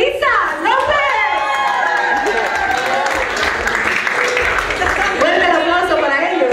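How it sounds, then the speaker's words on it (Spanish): Loud applause and crowd cheering for a couple at a quinceañera celebration, steady clapping filling the room with chatter and a voice speaking over it on a PA. "Fuerte el aplauso para ellos."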